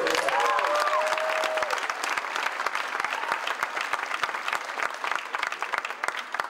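An audience at a conference event breaks into sustained applause, dense clapping that fills the hall and slowly thins, with a brief voice over the start.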